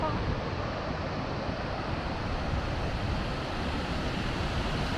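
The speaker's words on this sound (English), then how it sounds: "It's definitely a waterfall, isn't it? It's quite spectacular," A waterfall in Norway gushing over the top, heard as a steady, dense roar of rushing water that fills the whole clip with no pauses, close and loud, with no voices.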